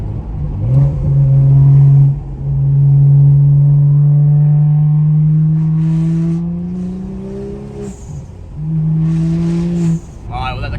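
A tuned BMW N55 engine revs hard under boost with a sustained rising drone, then dips briefly before climbing again, loud and close inside the car, with turbo flutter chirps at the lift-offs.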